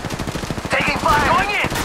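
Rapid gunfire in Apex Legends Mobile rattles in quick bursts, loud and close, as a voice calls out over the shooting.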